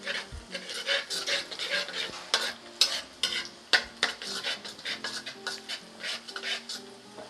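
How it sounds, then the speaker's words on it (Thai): Chopped Chinese garlic frying in a few tablespoons of oil, a close sizzle broken by quick, repeated scrapes and clinks of a spatula stirring the pan, with no talking. "เจียวกระเทียมให้หอมดีเลยค่ะ"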